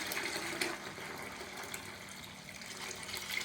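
Rice water poured into a container for watering plants, a faint steady stream of trickling liquid with light splashes throughout.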